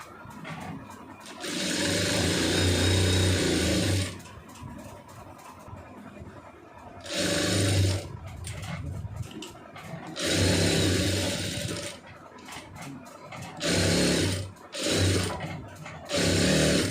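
A sewing machine stitching the lining of a cross-cut blouse runs in loud close bursts of steady mechanical whirring, several runs of a few seconds each with quiet pauses between them.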